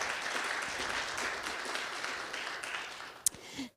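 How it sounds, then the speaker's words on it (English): Crowd at a Guide Dogs for the Blind graduation applauding the puppy raisers: broad, sustained clapping from many hands that gradually thins and fades out, with one sharp clap near the end. "let's please give our raisers a hand of applause"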